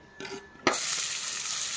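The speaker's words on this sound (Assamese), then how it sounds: "পিয়াজখিনি ধুনীয়াকৈ ভাজি ললো" Onions are tipped into hot oil in a wok for a pork fry with fiddlehead fern, and after a brief quiet moment a loud, close sizzle bursts out and continues steadily with stirring.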